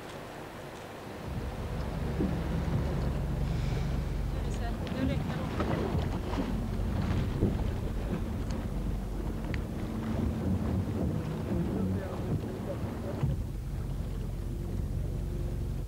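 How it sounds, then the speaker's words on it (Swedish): A 44-foot sailboat racing in the Tjörn Runt regatta, with steady wind rush and water noise on the microphone throughout, while people talk over it. "Vi ska se hur det går till att segla."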